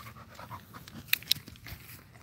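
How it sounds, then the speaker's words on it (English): Dog tired out after exercise, panting hard and fast at close range, with a couple of sharp clicks partway through. "You tell by how hard he's panting."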